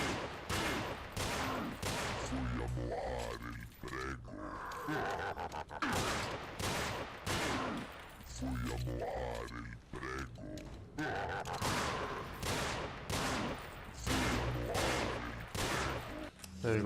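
Repeated gunfire bursts in the Resident Evil 4 UHD game, played on a modded Blood difficulty, mixed with grunts and game noise, loud and steady throughout with some talk-like sounds.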